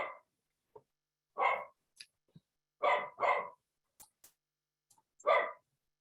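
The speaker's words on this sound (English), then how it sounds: "That sounds like that must be your dog back there." A dog barks in short sharp bursts, about six in all, a few coming in quick pairs, at a moderate distance against a silent background during an online meeting.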